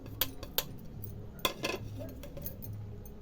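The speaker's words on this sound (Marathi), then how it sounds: "आता हे सर्व साहित्य मी एका मिक्सरच्या भांड्यामध्ये टाकत आहे" Ingredients drop into a mixer jar with several sharp metallic clinks and taps, scattered and close, over a quiet background hum.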